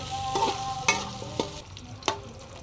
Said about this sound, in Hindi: अच्छी तरह से थोड़ा सा फ्राई करेंगे इस चक्की को, ताकि इसका जो ये घी है ये निकल जाए